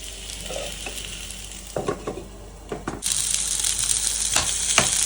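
Prasuma frozen momos pan frying, a quiet start with a few clinks of a utensil against the pan, then a louder steady sizzle that swells midway, with occasional scraping taps, close and without talk.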